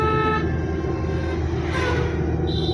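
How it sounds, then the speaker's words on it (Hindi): A car horn on a learner's driving lesson sounds one long, loud, steady honk held for nearly three seconds, close and continuous, with the engine faintly beneath it. "हॉर्न दीजिए लंबा"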